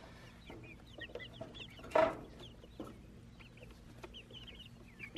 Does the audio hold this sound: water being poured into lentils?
no